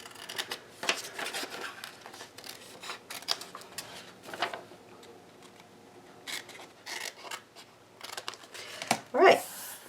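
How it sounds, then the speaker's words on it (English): Small scissors snipping and rasping through paper while trimming zine pages by hand, a run of quick close-up cuts and rubbing strokes followed by a louder rustle near the end. "Little scissors kind of help."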